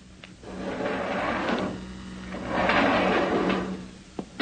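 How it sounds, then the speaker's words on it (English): A door on a landed moon rocket is worked open in a 1950 radio drama, with a long grinding, mechanical slide that swells twice and ends in a few sharp clicks and knocks, close and loud. "Hey, Mac, get the door open, will you?"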